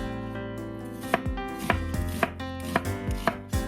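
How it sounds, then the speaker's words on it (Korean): Onion for smoked duck stew is sliced into thin strips with a knife on a board, a series of crisp, evenly spaced cuts up close over a quiet background, without speech. "네, 찜에 들어가는 거는 이렇게 채 썰어 주시면 됩니다."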